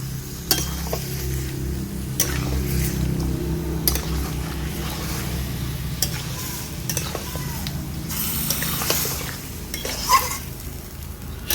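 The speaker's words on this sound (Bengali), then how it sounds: "সব কিছু মিশিয়ে নিচ্ছি" Yogurt-marinated chicken with squeezed lemon and ground pepper is mixed in a metal bowl, producing repeated close scraping and clinking of a spoon against the vessel over a low steady hum, with occasional louder knocks.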